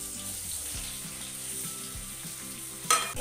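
Boiled potatoes dropped into hot oil left over from frying shrimp, giving a steady, even sizzle and crackle throughout, with a sharp spatter burst near the end.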